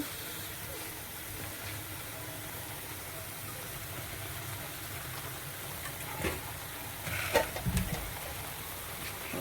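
Food fries gently in a pan in a home kitchen, giving a steady, faint sizzling hiss throughout, with a few soft clinks and brief louder crackles toward the end.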